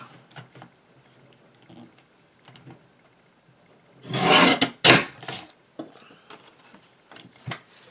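Scissors snip through a scrap of recycled card for a large handmade Christmas card, giving a close, loud rasping cut of about a second followed by a sharp second snip, with soft handling rustles before and after.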